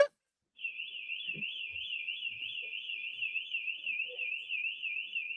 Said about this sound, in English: I need them to fix that alarm, okay? Because that's kind of annoying.